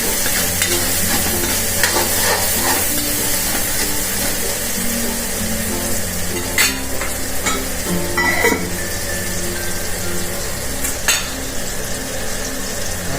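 Onion and tomato frying in a pan, a loud continuous sizzle under repeated scraping and stirring strokes, with a low steady hum in the background and a few sharper clanks of the spoon.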